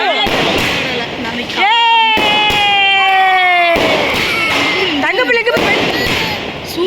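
Diwali firecrackers pop and burst in sharp, scattered bangs, loud and near, while excited people shout and call out over them.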